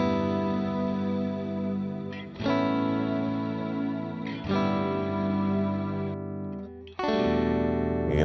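Sustained electric guitar chords through a Quad Cortex shimmer reverb swell into a lush, shimmering wash, struck three times with long ringing tails between them.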